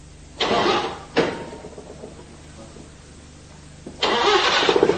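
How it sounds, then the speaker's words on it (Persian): A car engine cranks in two short bursts, then after a quiet pause it catches and starts, running loudly nearby. "استارت بزن، روشن شد."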